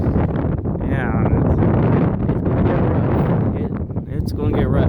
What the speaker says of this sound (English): there's a line of very gusty showers. I mean, very gusty.